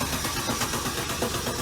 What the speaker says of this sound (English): I started the car.